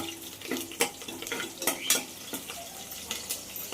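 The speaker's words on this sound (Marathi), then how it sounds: "लसणाचे फोडणी कढीपत्ता लसणाचे फोडणी" Light clinks of a spoon against a pan over a soft sizzle of garlic and curry leaves tempering in oil, with several quick scraping strokes close by.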